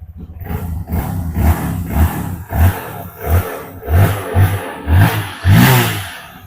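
Honda CRF supermoto motorcycle engine revved in short, loud, close bursts, about eight rhythmic throttle blips rising and falling, with no talking.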